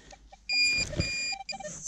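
Metal detector giving a steady high electronic tone over a find during outdoor detecting, held for almost a second between short softer beeps.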